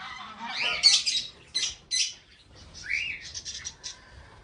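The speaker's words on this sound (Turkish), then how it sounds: "papağanlar var. Değişik değişik kuşlar var arkadaşlar" Parrots and assorted other birds call at a countryside breakfast spot, with bright chirps, squawks and a rising whistle that come in bursts, fairly close and clear.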